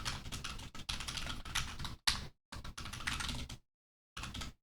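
Quick, close bursts of clattering keystrokes on a computer keyboard, broken by short pauses and one longer gap before a final flurry.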